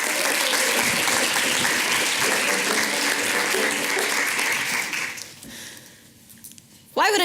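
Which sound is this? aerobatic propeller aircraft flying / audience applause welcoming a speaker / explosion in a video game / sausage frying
audience applause welcoming a speaker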